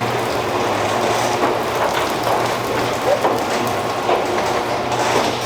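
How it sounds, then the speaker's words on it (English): Steady light rain patters continuously, a soft even hiss with scattered drops and a low hum underneath, no talking. "It's still kind of raining, but thankfully it's light enough."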